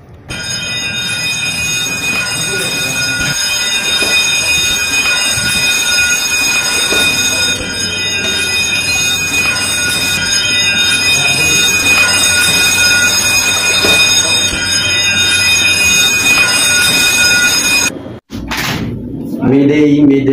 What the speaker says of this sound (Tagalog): Sound the general alarm.